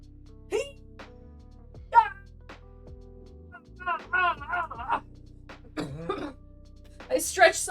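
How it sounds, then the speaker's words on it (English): A person coughs and clears their throat after a hard stretch, a few short rough bursts scattered among quieter voiced sounds and talking, with a louder cluster near the end. "I stretched so hard it made me cough."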